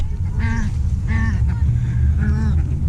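Ducks and swans being fed at a lake honk and quack in three clear, fairly close bursts over steady low background rumble, with no talking.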